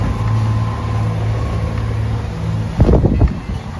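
Motorboat running at nearly seven knots with the tide through choppy water, a steady engine drone with wind buffeting the microphone and a few louder splashing slaps near the end.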